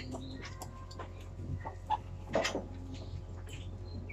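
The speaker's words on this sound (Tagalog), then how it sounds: "Ayan po ang mga alaga. Ang mga manok." Chickens cluck softly in short, scattered bursts close by, over a steady low hum, with a couple of sharper calls standing out.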